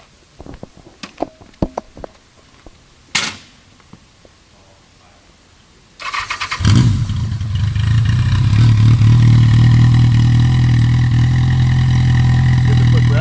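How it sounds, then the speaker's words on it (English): A 1979 Yamaha XS1100 Special four-cylinder motorcycle engine starts after a few light clicks and clatters, then settles into a loud, steady, rumbling idle close by. "We'll do a drive-by on it so you can hear what it sounds like on the open road."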